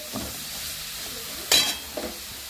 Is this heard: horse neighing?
no